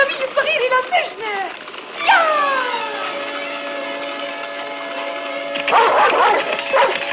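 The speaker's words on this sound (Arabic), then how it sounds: "اقتفى الكلب أثره" Cartoon dog in a dubbed Smurfs episode gives a few sharp yips and whimpering barks near the start, followed by sustained tonal cartoon sound effects and more yelps near the end, loud and close.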